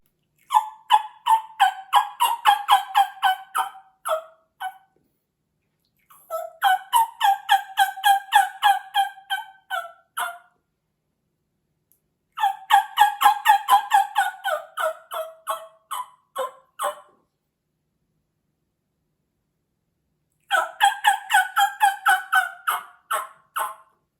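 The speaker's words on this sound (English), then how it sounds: "when you hear him gobble, just hold on a little bit" Four bursts of rapid, rattling wild turkey gobbles in spring separated by silence, each a quick string of throaty pulses, fairly close and clear with no talking.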